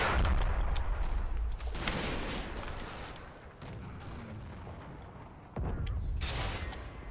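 Machine gun fire from an MG42 in the WWII tactical game Combat Mission, Normandy hedgerows 1944: loud, crackling bursts of rapid shots repeat several times, separated by short lulls, with dull rumbling booms in the background.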